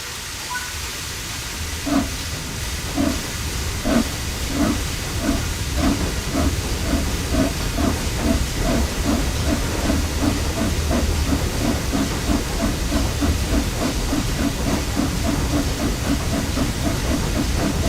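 The Flying Scotsman steam locomotive in Train Sim World 5 pulls away from a stand, with a steady hiss of steam under a rhythmic chuffing exhaust that starts slowly and builds into a quickening beat.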